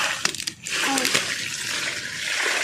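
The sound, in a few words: water poured onto newly planted sapling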